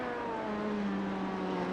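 Race car engine in the iRacing sim during the Petit Le Mans endurance race, a steady droning hum with gliding tones as the revs drop under clutch and braking, continuous and fairly quiet with no talk.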